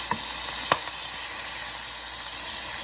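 Filet mignon steak sizzling loudly and steadily in a hot pan after being flipped, a broad close hiss with a couple of sharp pops near the start, no talking.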